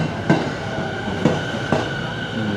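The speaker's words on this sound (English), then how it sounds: "This is a local train." Steady rumble of a local train running on the tracks in Japan, with a few sharp clacks of the wheels over rail joints.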